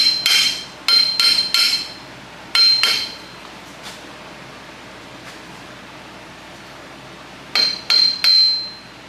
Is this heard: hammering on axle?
yes